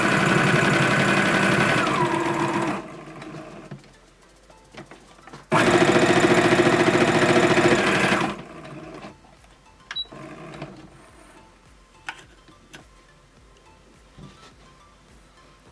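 A sewing machine stitches fabric around a corner in two loud, steady runs of rapid mechanical whirring, each about three seconds long, with quiet pauses and small clicks between them.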